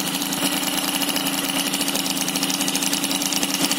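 A small engine idles close by, its rapid, steady chugging and rattle continuing without pause.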